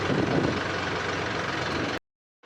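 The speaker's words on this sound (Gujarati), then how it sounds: "જો ટ્રેક્ટર ભરાઈને ઈલું આવે છે" A tractor loaded with cattle fodder on a village road runs with a steady, loud, rumbling engine drone for about two seconds, then cuts abruptly to silence.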